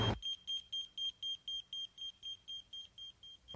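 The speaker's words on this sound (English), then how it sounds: "Beeper's calling." A beeper sounds a steady run of about fourteen evenly spaced, high electronic beeps, moderately close and alone after a brief thump at the start.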